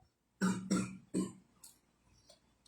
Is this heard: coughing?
yes